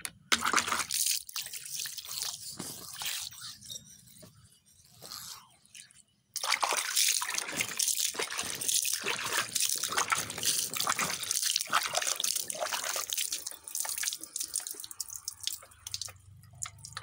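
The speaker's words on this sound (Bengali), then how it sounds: "জল দিয়ে দিচ্ছি" Water thrown onto a house's front steps during morning cleaning: steady close splashing and hiss that thins briefly, then resumes strongly and keeps running.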